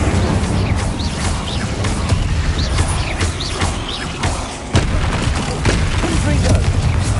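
Incendio fire spell being cast in the video game Hogwarts Legacy: a run of sharp bursts and crackling blasts over a steady, busy game backdrop, with other effects and chirps mixed in.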